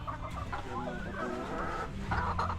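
Chickens clucking nearby, several birds murmuring and calling over one another in a continuous, busy chatter.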